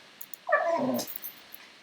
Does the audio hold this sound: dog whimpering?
yes